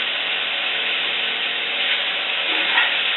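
Chicken sizzling and frying in a cast iron pan, a loud continuous hiss close by with slight crackle and swell, no voices.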